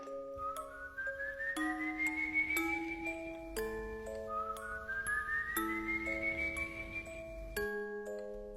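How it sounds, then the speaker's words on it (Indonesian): An eerie whistled melody for the El Silbon legend, long rising glides repeated twice over sustained tones and a low background drone, clear and close with no talk. "Kalau lu denger siulan ini, gue saranin mending lu hati-hati."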